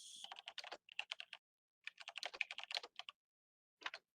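Clicky computer keyboard typed on in close, quick bursts of sharp keystrokes separated by brief pauses, with no voices over it.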